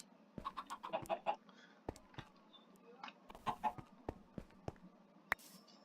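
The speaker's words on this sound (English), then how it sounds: "There are an abundance of chickens here." Chickens in the Minecraft video game cluck in a busy cluster of short calls, then give scattered single clucks close by, with no talking.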